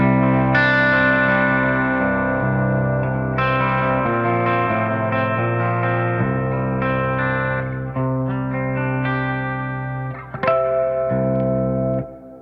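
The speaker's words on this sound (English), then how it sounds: "It's a clean with reverb." Mayones electric guitar on a clean channel with reverb, pickups in full humbucking mode, ringing out sustained chords and notes that change every second or two, loud and alone with a reverberant tail.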